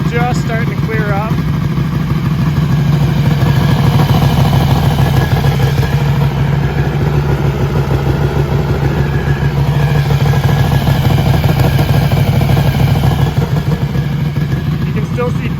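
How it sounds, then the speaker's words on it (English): A motorcycle engine idles hot for a long stretch, with a steady, close, rhythmic low putter and some light mechanical clatter throughout while a person talks over it. "I don't think it's super healthy having the bike running this hot for long periods of time"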